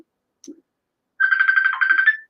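A mobile phone ringtone sounds up close, one bright, warbling electronic burst lasting about a second, with a tiny click just before it in an otherwise quiet room.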